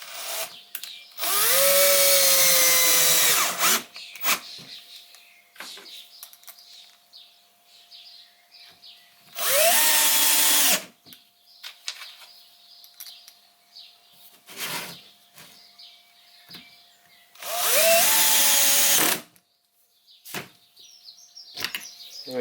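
Three loud bursts of a power drill driving screws into a spalted beech bowl, each lasting a couple of seconds with the motor pitch rising and dropping, separated by quieter handling sounds and faint bird chirps in the background.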